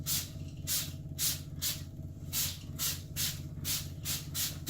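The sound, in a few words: spraying disinfectant solution inside a kennel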